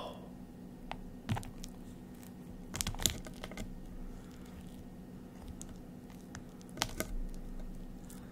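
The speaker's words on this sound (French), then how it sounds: "J'ai pris une cuillère et un couteau pour le couper, enfin pour le casser au milieu." Scattered crisp cracks and soft crunches as a spoon and knife break through the middle of a trompe-l'oeil dessert, close-up, with a low steady hum underneath.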